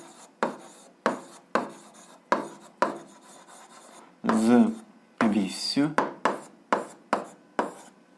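Pen strokes writing by hand on paper while an algebra exercise is worked out, a regular series of short scratchy taps and scrapes roughly every half second, with a couple of longer rubbing passes midway, close and fairly quiet.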